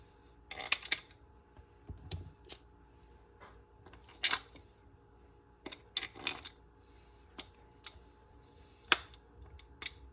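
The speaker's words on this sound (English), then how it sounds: "one by one tighten them down in a cross pattern till this outer ring goes up against the housing" Bolts being tightened one by one on a homemade rear main seal installation tool on a Porsche Boxster 986 engine, heard as sparse, close metallic clicks and clinks spread irregularly over a quiet background.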